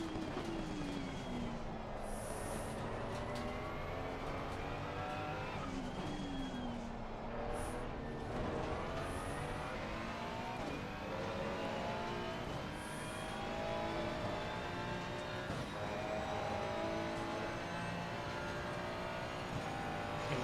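A race car in Assetto Corsa Competizione at Silverstone roars continuously, its engine pitch rising and falling through gear changes, with a few brief high tyre squeals as the car slides, loud and unbroken throughout.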